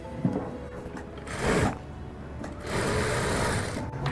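A sewing machine runs in two bursts while stitching a seam in a blouse lining, with a quiet gap between runs and no talk.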